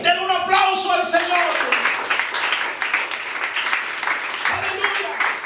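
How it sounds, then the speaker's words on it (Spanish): Church congregation applauding together during a service, a dense steady wash of clapping lasting several seconds, with voices and some shouting mixed in at the start. "Den un aplauso al Señor."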